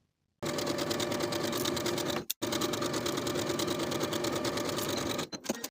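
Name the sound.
sewing machine sewing side and shoulder seams of a top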